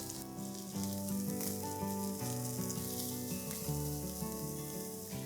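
Shredded cabbage, chopped carrot and onions crackle as they fry for veg fried rice. A steady hiss sits under louder background music.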